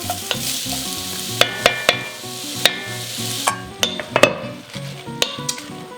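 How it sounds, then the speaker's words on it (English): Garlic and chopped onion stirred in a pot for potato leek soup, a steady sizzle of frying with repeated clinks and scrapes of a utensil against the pot, close and fairly loud. "we're going to add the garlic and also our chopped onion. Just give that a good stir."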